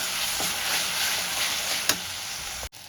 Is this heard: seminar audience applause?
no